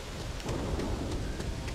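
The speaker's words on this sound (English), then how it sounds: "And now it's a stormy, rainy day." Steady in-game thunderstorm in the space RPG Starfield, with broad rain hiss and a low rumbling wash of thunder running continuously throughout, fairly loud and with no voices over it.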